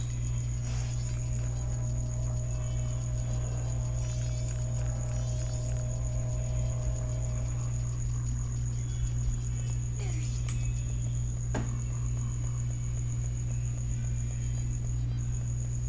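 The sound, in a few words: crickets chirping in the video game Zelda: Majora's Mask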